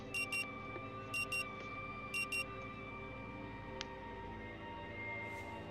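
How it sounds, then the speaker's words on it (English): An alarm clock rings in the Rue Valley video game, with three evenly spaced pairs of sharp beeping bursts over a steady, layered musical drone. "The frantic sound of the alarm nudges you back to the present."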